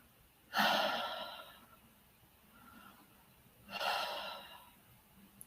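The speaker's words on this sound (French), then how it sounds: "J'inspire, je relâche." Two slow, deep breaths during a guided relaxation exercise, each a soft airy inhale and release, close to the microphone with a quiet pause between them and a faint breath in the middle.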